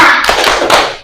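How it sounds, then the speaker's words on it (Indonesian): Students in an Indonesian primary classroom perform the rhythmic 'tepuk semangat' spirit clap, a short, loud, close burst of many hands clapping together that fills the room with no talking. "Sebelum mulai kita tepuk semangat dulu."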